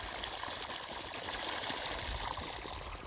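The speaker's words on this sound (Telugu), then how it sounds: "దారలాగా నీళ్ళు అయితే వస్తున్నాయి చూడండి" Thin stream of water trickling steadily from an irrigation pipe into a dry paddy field during drought, a continuous close hiss and babble with no talk.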